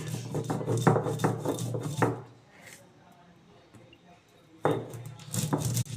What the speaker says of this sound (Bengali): কাঁচা লঙ্কা এটাকে আমি বেটে নেবো এখন শিলে